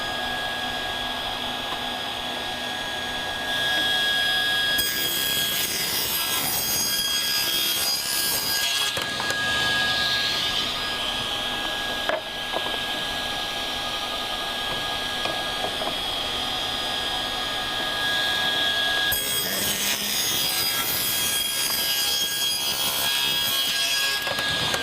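A table saw with safety guards in place ripping thin wooden strips: a continuous high whine and buzzing cut noise that swells and eases as each strip passes through the blade, loud and close throughout.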